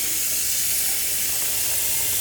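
Steam hisses steadily from a hot cooking pot just filled with cold water while making lemon orange marmalade, a loud, close, continuous hiss with no voices.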